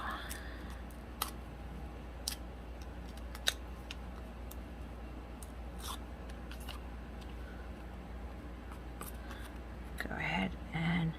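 Scissors snip paper for a sequin pocket holder project, giving a few sparse, sharp cuts over a quiet room, with a brief rustle near the end.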